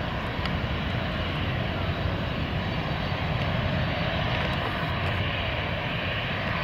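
An airliner taxiing at RSW airport as it finishes braking, with a loud, steady engine roar close by that fills the whole stretch without letting up.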